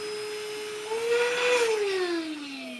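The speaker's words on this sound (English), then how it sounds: "So this is what this handheld vacuum sounds like." A Caseeto handheld cordless 12V vacuum hums close by with a steady high-pitched motor whine that rises briefly and then sags slightly in pitch, running alone without talk.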